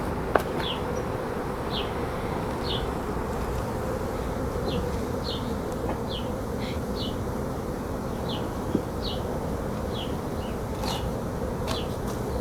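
Honeybees buzz at a hive while an observation hive and nuc are set up, a steady dense hum running throughout with repeated short higher buzzes from individual bees flying close by.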